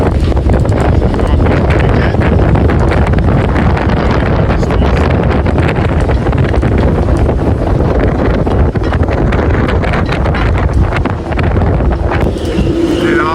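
Strong wind gusts batter a marina in Liguria around a moored catamaran, a loud, steady broadband roar of buffeting wind noise with rigging and water churn filling the whole stretch.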